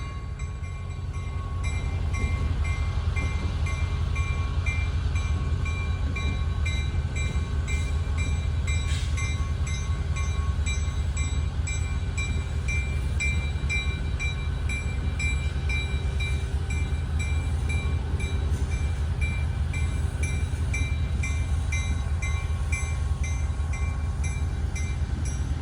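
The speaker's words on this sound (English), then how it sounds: "It's a one locomotive passenger train." A Florida East Coast Railway passenger train hauled by a single locomotive rumbles past steadily and loudly, a continuous heavy diesel roar with wheel noise holding for the full length, no voices.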